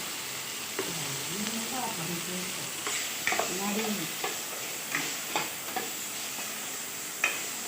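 Food sautéing in a pan after salt is added, a soft steady sizzle with scraping stirs and light clinks of a spoon, while someone talks over the cooking.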